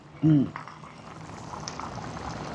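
A close, steady bubbling and simmering of a thick prawn and potato curry in a pot, with a brief voice sound at the start.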